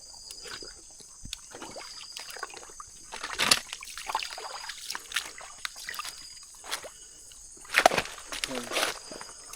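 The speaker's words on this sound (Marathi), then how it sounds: "बघा अशा प्रकारे हा ओढा आहे." A small stream at night in Konkan, soft trickling and dribbling water with scattered splashes and knocks of wading, quiet and close, while someone speaks now and then.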